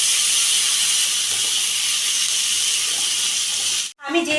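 Garlic and ginger paste fries in a hot pan for an egg shahi korma, giving a loud, steady sizzling hiss that carries on without a break until a brief gap near the end.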